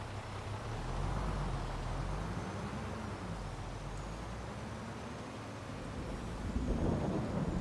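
A heavy farm truck in Farming Simulator 22, unloading corn on the Forest River North Dakota map, gives a steady low engine rumble with a diesel drone beneath a broad wash of rain and wind noise, swelling slightly near the end.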